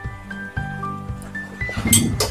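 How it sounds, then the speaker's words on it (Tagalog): A portable ice maker powered from a car-camping power station runs with a humming tone, then releases its batch of ice, a quick clatter of cubes clinking and tumbling into the bin near the end. "Every 10 minutes po gumagawa ng yelo yan."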